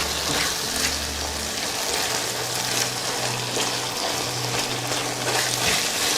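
Uyghur fried rice with vegetables sizzles steadily in hot oil in a pan, a close, continuous crackling hiss with no speech.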